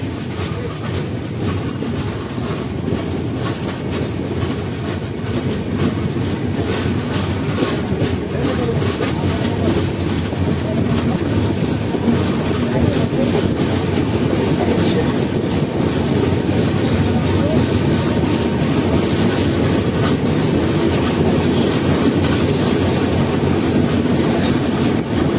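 The 13149 Kanchan Kanya Express runs along the rails from Sealdah toward Siliguri with a steady loud roar and rhythmic clickety-clack of wheels, continuous and close throughout.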